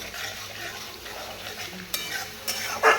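Curry with sour yogurt, paneer and pointed gourd being stirred in a pan: a soft sizzle under scraping strokes of a spoon, ending in a few sharper clinks against the pan.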